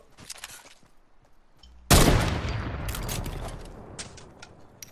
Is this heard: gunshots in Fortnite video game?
yes